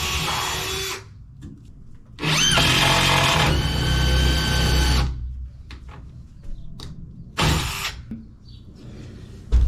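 A power drill drives a screw into a metal wall frame inside a box truck camper build, with several bursts of whirring and grinding, one long, split by short pauses with faint handling clicks, close and loud.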